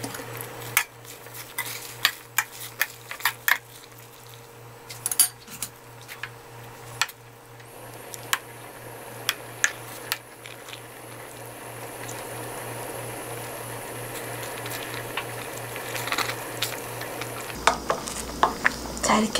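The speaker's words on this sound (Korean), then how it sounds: "자, 이제 물이 끓는데요." Pot of water on the boil with pepper leaves being stirred, giving a low bubbling hiss with irregular clinks and scrapes of a utensil against the pot, close and moderately quiet.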